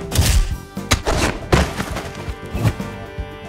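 Toy stegosaurus tail attacks land as a series of dull thuds and knocks, several hits in quick irregular succession, close and fairly loud, with no talking.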